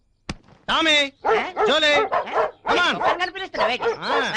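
Dogs bark and yelp close by in rapid, overlapping bursts, with whiny, excited yips filling the whole stretch.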